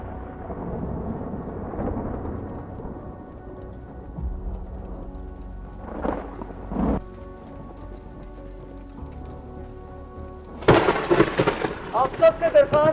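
A thunderstorm rumbles with low thunder and steady rain, then builds into a sharp louder crack with heavy downpour near the end; a voice is heard in between.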